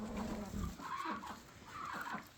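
Quiet clucking and murmuring of chickens, with ducks also present, over a soft background hum, a few low calls rising and falling.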